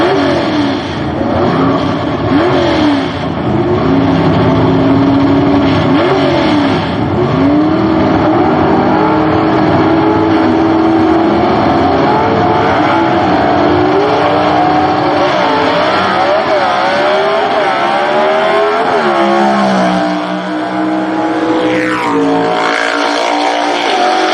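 C/Gas class gasser drag cars from the Southeast Gassers Association race at full throttle, a loud continuous engine roar with rising and falling pitch sweeps as gears change, filling the whole stretch with no break.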